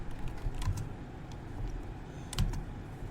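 Quiet typing on an HP laptop keyboard, a handful of soft clicking key presses in short bursts, faint and close against a low background hum, with no talk.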